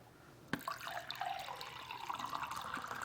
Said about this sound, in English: pour the glass of water here, and then I drink it.